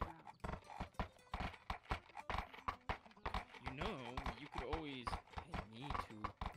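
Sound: horses clip-clopping and whinnying in a video game

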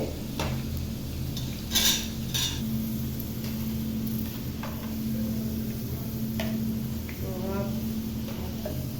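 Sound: stirring cabbage 65 in a cooking pan

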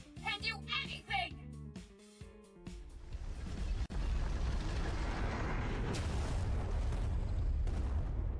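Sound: explosion sound effect in audio drama

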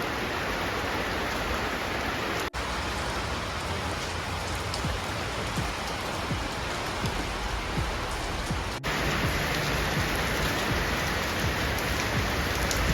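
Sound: rain falling

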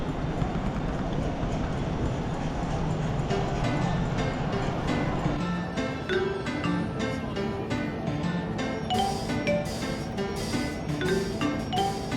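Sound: train ride interior

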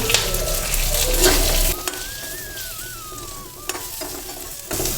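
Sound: small onions sautéing in a pan with cumin

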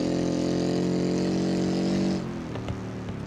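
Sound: car engine revving in BeamNG.Drive video game

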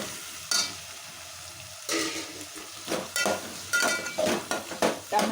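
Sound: chopped tomatoes frying in a pan for ivy gourd curry

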